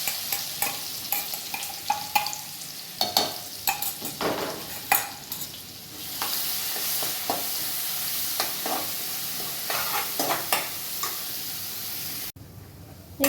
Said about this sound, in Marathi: एक 2 मिनटं हे वाटण व्यवस्थित परतून घेतलं